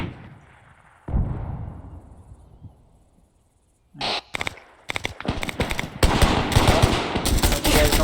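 Artillery fire in ArmA 3: a single deep boom, then after a lull a rapid run of sharp blasts and crackling gunfire building in density and loudness toward the end.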